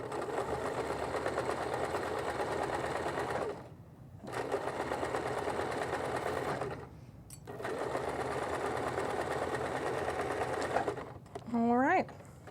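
A sewing machine stitches an apron, forward and back stitching in three long bursts of fast, even mechanical whirring separated by short pauses, with a brief squeak near the end.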